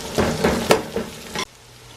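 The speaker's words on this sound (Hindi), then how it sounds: "तो ये अब डाल के इसको अच्छी तरह भून लेते हैं।" Ginger garlic paste frying in a pan, a steady sizzle with a few stirring scrapes, close and moderately loud, stopping abruptly near the end.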